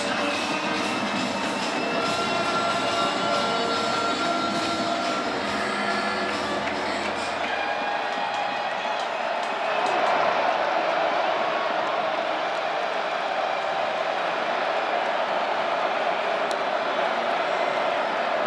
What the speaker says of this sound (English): And just take a listen to this crowd here on 3rd down.